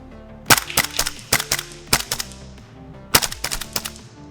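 A KWA airsoft bullpup gun fires close by in quick single and paired shots, with sharp cracks and a brief pause midway before the shooting resumes.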